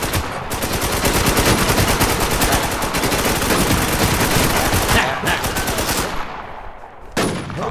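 Sustained rapid automatic gunfire from a first-person shooter video game, loud and continuous for about six seconds, then stopping briefly before another burst begins.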